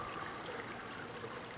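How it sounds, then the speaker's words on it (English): An aquaponics siphon pipe glugs as an air gap breaks the siphon, giving a continuous faint trickling, gurgling water sound with no voices. "you hear this pipe go and make a glugging noise"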